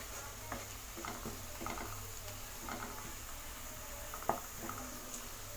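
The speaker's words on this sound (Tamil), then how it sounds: "1 நிமிஷம் நல்லா வதக்கி விட்டுக்கலாம்." Chicken biryani masala with spice powder is sautéed in a pan, giving soft sizzling and a steady low background hiss, with scattered light scraping and stirring taps from a spoon.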